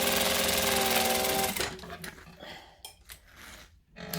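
A sewing machine runs steadily and loudly as it back-stitches a handbag seam, then stops, leaving faint handling noises.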